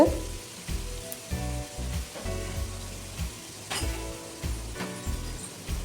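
Urad dal and chana dal fry in hot oil in a pan, a soft crackling sizzle broken by repeated scraping stirs and light clinks of a spoon, fairly quiet and close, with no voices.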